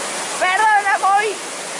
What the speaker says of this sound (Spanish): Hay un río tremendo acá.